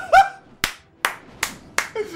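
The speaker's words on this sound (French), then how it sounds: "J'applaudis" Five sharp hand claps, spaced slowly and evenly, each crisp and close with quiet gaps between.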